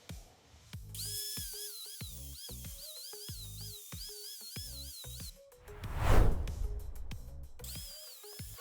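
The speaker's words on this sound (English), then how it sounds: "take an angle grinder and sand that down to be a smooth ridge" An angle grinder sands a jutting strut ridge smooth on a Camaro, giving a high wavering whine in repeated bursts with short pauses, and a louder, gritty grinding surge partway through.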